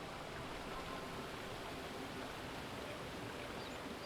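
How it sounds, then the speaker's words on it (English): Flowing water in The Talos Principle video game rushes continuously, a steady hissing wash like a stream or waterfall, even and fairly loud throughout with no talk. "Oh, the water sounds so cool."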